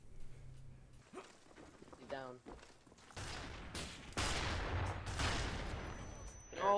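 Gunfire in Black Ops 1, a first-person shooter, comes as bursts and sharp shots that grow louder and denser toward the end, mixed with game effects.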